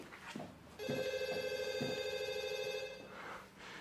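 An office desk telephone rings with a steady electronic trill lasting about two seconds, loud and close, with a few soft footsteps or thumps before it.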